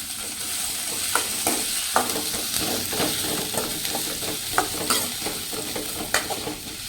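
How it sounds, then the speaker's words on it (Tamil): Onions and green chillies sauté in a frying pan with a continuous sizzle, punctuated by repeated soft scraping taps as they are stirred. "சரி நல்லா வதங்கிட்டோம்"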